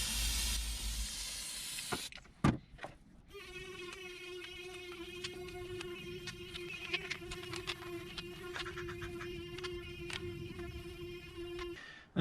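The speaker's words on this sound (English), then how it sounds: "I'm going to spray it with some carb cleaner and then use the toothbrush, the sonic toothbrush," Carb cleaner sprayed on a car part, then scrubbed with a sonic toothbrush: a short hissing spray and a few sharp clicks give way to a steady, close electric buzz with faint scrubbing patter over it.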